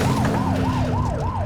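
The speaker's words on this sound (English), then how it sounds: "Get on their tail and blip the siren." Police siren blip from a car in the video game The Precinct: a loud, close wailing tone that rises and falls in quick regular cycles over an engine rumble.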